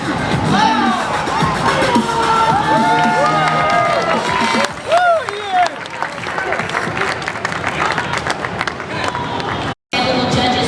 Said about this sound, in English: All these other competitors are cheering him on.